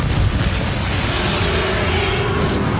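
A Confringo fire spell blasting in Hogwarts Legacy, a loud, dense, continuous roaring rumble that fills the whole moment without a break.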